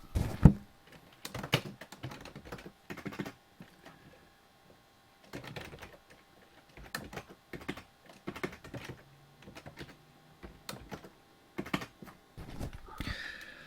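Keys clack on a computer keyboard in irregular bursts of quick taps with short pauses between, fairly quiet and close, with no voices over it.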